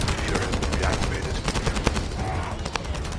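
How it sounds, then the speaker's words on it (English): In the video game The First Descendant, sustained bursts of gunfire crackle densely and loudly, rapid shots blending into a continuous roar of automatic fire. "That stopped the gunfire."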